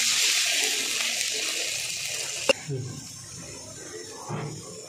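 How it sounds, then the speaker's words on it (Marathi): Water pours into a pan on the stove for pithla, a rushing hiss that fades over a few seconds, followed by a clink and a few soft knocks near the end. "पाणी, आता पाणी घालून देते"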